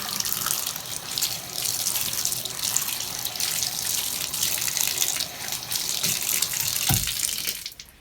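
A silicone body scrubber is washed under a running tap, giving a steady, close hiss of flowing water for several seconds before it cuts off near the end.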